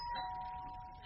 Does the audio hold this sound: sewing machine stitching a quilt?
no